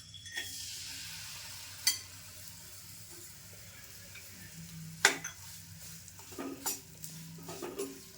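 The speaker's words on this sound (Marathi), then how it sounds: "आणि याच तुपामध्ये आपल्याला गूळ घ्यायचा." Quiet stirring of jaggery melting in ghee in a pan, with a soft steady sizzle and occasional sharp scrapes and clinks of a spoon against the pan, no talking.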